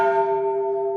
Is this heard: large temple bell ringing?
yes